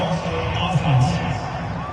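Stadium crowd noise in the Madden 22 football video game, a Texans at Jaguars matchup: a dense, steady roar of cheering fans heard throughout, with voices talking over it.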